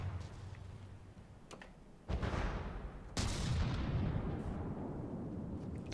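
A cluster mine dispenser firing in the naval game From The Depths: two heavy, booming launches a second apart, each followed by a sustained rumbling roar, set against quiet ambient noise.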